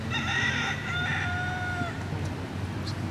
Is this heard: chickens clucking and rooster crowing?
yes